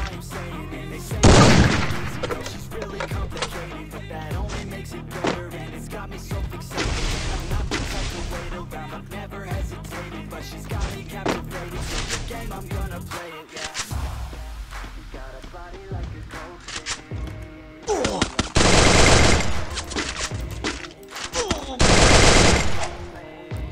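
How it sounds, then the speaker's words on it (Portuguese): Rapid bursts of automatic gunfire and heavy single shots crackle through a shooter video game match, loud and close, with repeated volleys separated by short lulls and someone talking between them. "Só andar aqui no aberto e você vai levar tiro de tudo quanto é lado."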